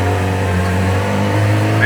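Yamaha R6 motorcycle with an NSG exhaust running at a steady, loud engine drone on a long road trip, a constant low hum with wind noise and faint talk mixed in.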